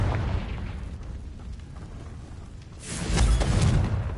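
A Confringo spell explosion in a Hogwarts video game, a rumbling boom that rises after a low roar and holds loud and close for over a second.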